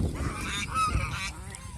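Two female geese squabble with harsh, overlapping honks and hissing calls at moderate distance over steady background noise.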